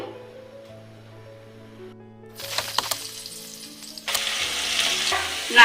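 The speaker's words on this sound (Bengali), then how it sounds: "এবার আমি আলুগুলোকে ভেজে নেব।" Potatoes frying in mustard oil in a pan: a quiet start, then a loud, steady sizzle that swells as the potatoes go in, with scraping stirs near the end.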